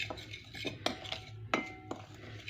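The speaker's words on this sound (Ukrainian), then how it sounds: "Я все це перемішаю, перемішаю просто цією ложечкою." A small spoon stirs a marinade of meat mixture in a bowl, giving quiet scraping strokes punctuated by several sharp metallic clinks against the dish, close up with no talk.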